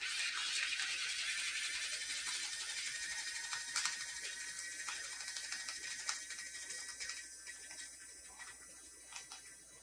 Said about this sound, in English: And now we just press the button to grind.